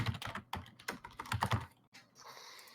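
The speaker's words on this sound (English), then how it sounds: "I hear typing. Is someone typing to me?" Quick, uneven bursts of clicking keystrokes on a computer keyboard, close and fairly quiet, pausing briefly before a softer hiss at the end.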